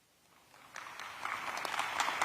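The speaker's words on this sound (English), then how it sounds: "I'm giving my Tiger family 2 claps" A crowd at Edward Waters University in Jacksonville claps, starting faintly and building into steady, dense applause over a couple of seconds.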